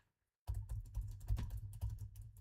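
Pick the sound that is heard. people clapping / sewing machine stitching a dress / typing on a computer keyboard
typing on a computer keyboard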